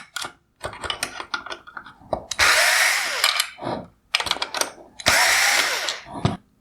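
An electric driver removing T20 Torx screws from the upper projector mount of a 2016-2019 Mercedes-Benz GLS550 LED headlight, with bursts of whirring plus clicks and rattles from handling parts, loud and close.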